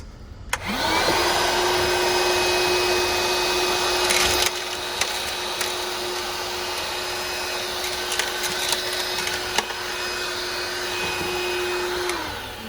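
A DeWalt 20-volt cordless portable vacuum cleaner starts up and runs steadily with strong suction, a loud constant motor whine holding for about eleven seconds before spinning down, with a few small clicks and bumps along the way.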